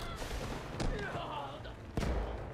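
Gunfire in the Delta Force Hawk Ops mobile shooter game: two sharp, loud shots about a second apart stand out over a busy game backdrop, with faint talk in the mix.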